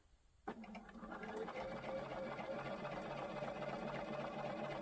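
A sewing machine stitches a quarter-inch seam on quilt pieces for a patriotic wall hanging, starting after a brief quiet moment and then running as a steady, close, continuous mechanical whir.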